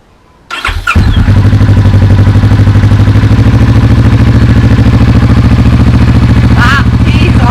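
A Kawasaki Vulcan S motorcycle fitted with an Arrow exhaust starts up and revs close by, its loud, throaty engine running steadily with a brief voice heard briefly.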